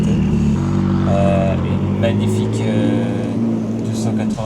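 A Ferrari 296 GTB supercar goes by on a roadside at a car event, its engine droning loud and close with a rising, shifting tone, while people talk over it.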